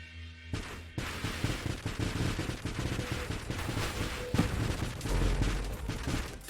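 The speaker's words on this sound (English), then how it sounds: "The more missiles we can just spit out, the better." Rapid bursts of missile fire from a spaceship in the video game Nova Drift, dense overlapping salvos crackling continuously and loudly, with heavier booming impacts near the end.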